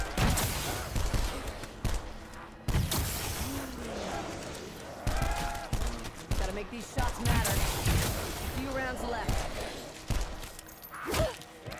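Gunfire from Call of Duty Black Ops 4 Zombies, with loud shots and short bursts going off through the whole stretch, mixed with game effects and a player talking over the action.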